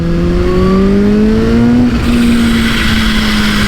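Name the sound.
Kawasaki H2 motorcycle engine revving at 30% throttle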